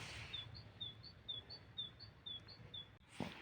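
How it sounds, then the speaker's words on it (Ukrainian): Faint, high bird chirps repeat in a quick, even rhythm against a quiet outdoor spring background in Denmark, ending with a soft thump. "Ви чуєте, як співають пташки?"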